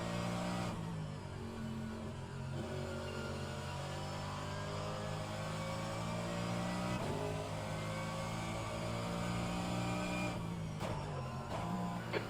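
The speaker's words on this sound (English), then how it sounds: "There's a car approaching." An approaching race car in the rFactor2 racing game, at Road America, holds a steady engine whine with clear harmonic tones that shift pitch slightly, under faint background noise at moderate, even loudness.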